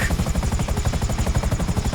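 An aircraft flies overhead in GTA Online with a steady, rapid rotor-like chopping pulse, loud and continuous throughout with no talking.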